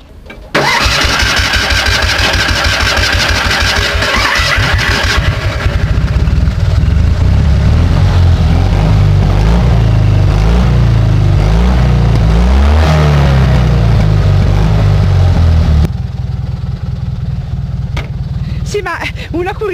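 Vintage car at a historic car show cranks over and catches, then revs loudly and steadily up close before dropping back to a rougher idle near the end.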